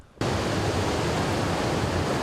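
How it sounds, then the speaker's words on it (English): Pounding ocean surf beats against a seawall in front of an oceanfront home at Ka'a'ava, a loud, steady wash of broadband roar that begins abruptly after a brief quiet moment and continues unbroken, with no voices. "A seawall is the only thing protecting this oceanfront home in Ka'a'ava from pounding surf."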